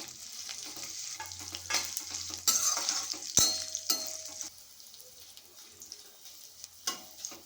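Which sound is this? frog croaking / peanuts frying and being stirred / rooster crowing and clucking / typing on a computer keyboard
peanuts frying and being stirred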